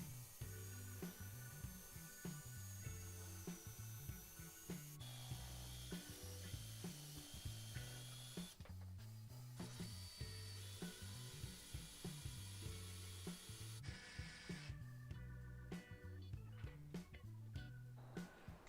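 An Excel 18V cordless jigsaw (model 11752) with pendulum action and a tilted blade saws steadily through wood, its rapid buzzing reciprocating stroke running continuously and close up with brief shifts in pitch as the cut progresses.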